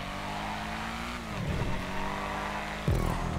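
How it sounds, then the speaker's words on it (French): A car engine revving in the video game GTA 5, a steady close engine drone with rising and falling pitch and a sharp burst of revs near the end. "J'aime bien le bruit de cette voiture."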